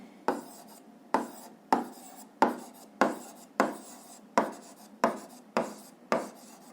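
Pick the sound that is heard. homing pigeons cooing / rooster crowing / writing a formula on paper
writing a formula on paper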